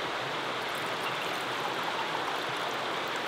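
A river flowing beside a spot for sipping cedar tea, a steady, dense rushing wash of water that stays even and close throughout, with no voices.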